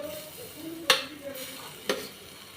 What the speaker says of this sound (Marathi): मस्त हलवून घ्यायचे